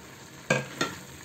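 Zucchini and potato pieces get stirred and fried in a pan, two quick scraping clatters over a faint steady sizzle, close and without talking.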